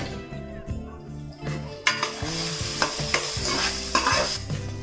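Chopped capsicum frying in a pan for veg manchurian, a sizzling bed broken by repeated scrapes and knocks of a spatula stirring against the metal, close and fairly loud with no talking.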